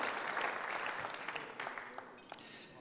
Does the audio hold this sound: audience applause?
yes